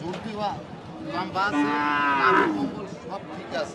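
Sindhi breed young bull calf lets out one drawn-out, fairly close moo over faint background noise.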